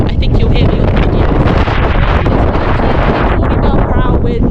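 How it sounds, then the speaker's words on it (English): Strong wind roaring across a microphone high on a mountain fell, a loud, continuous buffeting rumble that never lets up, close and overwhelming. "I hope you can appreciate it in the video how windy it actually was up there"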